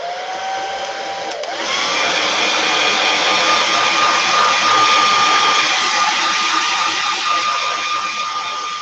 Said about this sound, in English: I'm going to heat mine up just a little bit with my hair dryer.